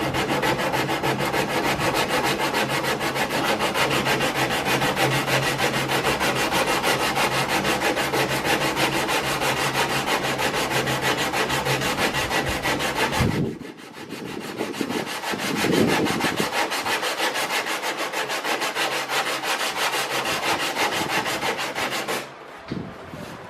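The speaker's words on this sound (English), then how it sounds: "So we'll just sand out the black and smooth up that edge" Steady, rhythmic hand sanding scrapes back and forth on a wood edge, removing black marks, for a long stretch, pausing briefly before the rasping strokes resume.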